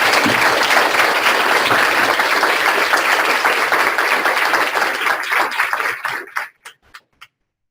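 Audience applause welcoming a guest scholar at the University of St. Augustine: dense, sustained clapping from a crowd that holds steady, then thins to a few scattered final claps and stops.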